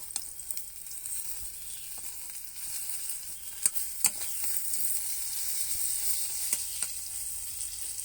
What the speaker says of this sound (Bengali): বেগুনগুলো ভাজা হচ্ছে